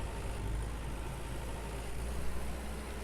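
A farm mower's engine idles in the farming video game Farmer's Dynasty, a steady, even rumble that holds level for the whole few seconds with no other sounds.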